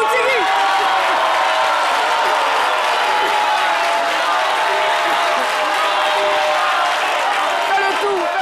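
An audience gives an ovation to the robot Dougou-Tigui, with steady clapping and cheering that holds for the whole stretch while a voice carries over the crowd.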